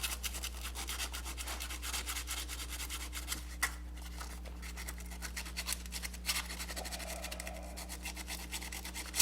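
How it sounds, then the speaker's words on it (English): Sandpaper and a wire brush scrub corroded electrical ground contacts on a Corvette, producing steady close rasping strokes over a low constant hum, with no speech. "make sure that there's no residue or rust or corrosion on the contacts. So a little bit of sandpaper,"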